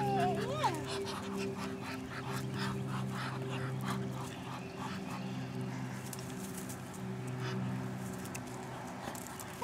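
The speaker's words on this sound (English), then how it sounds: "Feed the ducks" Ducks quack repeatedly nearby while being fed bread, short nasal calls recurring throughout under a child's and adults' chatter.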